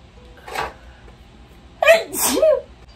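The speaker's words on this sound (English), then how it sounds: "why do I sneeze so aggressively?" A woman sneezes forcefully indoors: a brief sharp intake or first burst, a pause, then a loud explosive double sneeze with a voiced trailing sound, close to the microphone.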